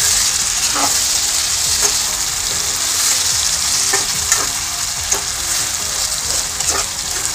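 Spiced masala paste for a climbing perch curry sizzles loudly and steadily in a hot pan, with faint scrapes of stirring surfacing through the continuous frying hiss.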